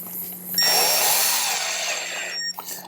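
A power driver sinking self-tapping screws into plastic motorcycle fairing on a 2016 Harley-Davidson Road Glide CVO, giving one steady, loud whirring run of about two seconds, close up and alone.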